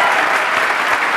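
Audience at a stand-up comedy competition show applauds warmly after a recited couplet; dense, steady clapping from many hands fills the room evenly throughout the brief burst, close and loud.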